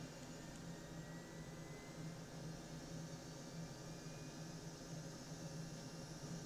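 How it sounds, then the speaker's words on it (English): An F-18 Hornet's APU starter runs in Microsoft Flight Simulator 2020, a steady whining, airy roar with a low hum underneath, constant and unbroken throughout with no talk. "now we'll turn on the APU starter for the engines and wait for about 30 seconds"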